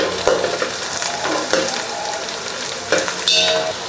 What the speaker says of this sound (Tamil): வெங்காயமெல்லாம் நல்லா வதங்கி வரட்டுங்க